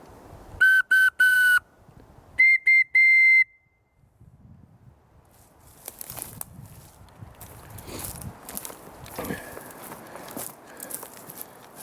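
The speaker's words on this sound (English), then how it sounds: "Got a little whistle. I've already blown it 3 times here in a row." A small whistle is blown in the woods, two sharp, shrill bursts in close succession, the second split into quick pulses, followed by footsteps crunching through leaves and brush.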